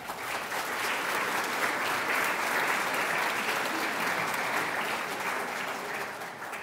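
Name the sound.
audience applause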